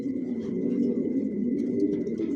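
A racing homing pigeon in its loft coos in a low, continuous, rolling murmur close by, steady throughout with no other sounds standing out.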